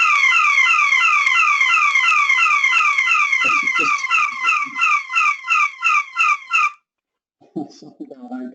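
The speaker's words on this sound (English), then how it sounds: "They're obviously just testing the fire alarm, and that wasn't a scheduled test at this end." An office building's fire alarm sounds during a test as a loud, rapid warbling electronic tone that breaks into repeated pulsing bursts and then stops, with someone talking over it and briefly afterwards.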